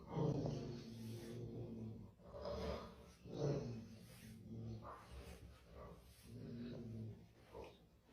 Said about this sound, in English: she started barking, and she growled